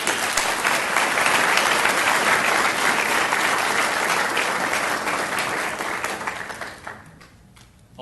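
A meeting audience applauds a student being recognized at a board meeting, a dense round of clapping that holds steady for several seconds, then thins and fades out toward the end.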